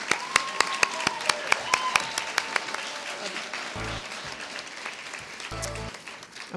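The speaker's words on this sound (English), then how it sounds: "I would love for him to stand up so we can give him a round of applause." A commencement ceremony audience applauds, with a few sharp claps close by at first, then a softer crowd clapping spread across the hall, along with brief bumps of handling noise.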